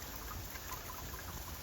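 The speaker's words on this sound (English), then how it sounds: "You can hear the raindrops hitting the snow." Heavy rain falling on snow, a soft, dense and steady patter of drops that sounds almost like sleet, faint and continuous throughout the short stretch.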